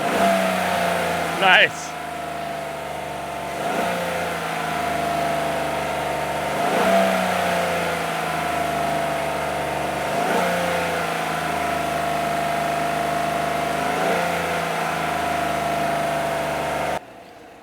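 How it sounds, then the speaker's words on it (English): Pickup truck engine revved hard several times in rising, sustained bursts over a steady idle, close and loud, with a brief spoken remark near the start. "Rev it up higher. Rev it like you don't own it."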